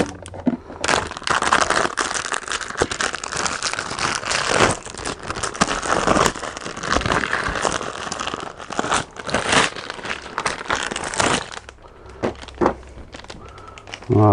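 A new cabin air filter for a Chrysler 300C is unwrapped from its plastic packaging, giving loud, continuous close-up crinkling and tearing that fades near the end.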